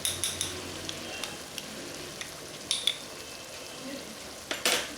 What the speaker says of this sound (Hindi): अच्छे से मैं मिक्स कर लूँ ज़रा